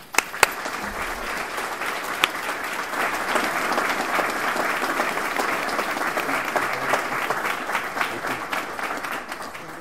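An audience welcomes Dr. Malcolm Astley with steady, full applause that lasts the whole stretch, many hands clapping at an even level with a few sharper claps at the start.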